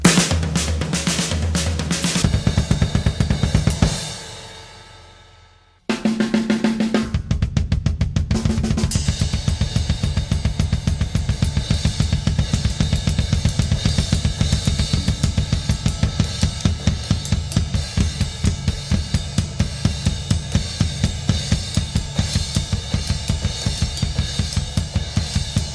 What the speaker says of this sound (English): Crossovers, as the name implies here, are literally when one hand crosses over another hand.